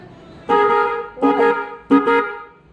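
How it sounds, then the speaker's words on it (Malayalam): Three loud honks from a new horn on a Volkswagen Polo 1.2 car, the first long and the next two shorter, sounding close by with quiet pauses between them. "പുതിയ ഹോണൊക്കെ മേടിച്ചു."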